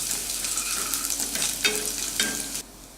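Grated ginger and finely chopped garlic sizzle in a pan while being stirred for tomato rice, a steady frying hiss with scraping stirring strokes, fairly quiet and without talking.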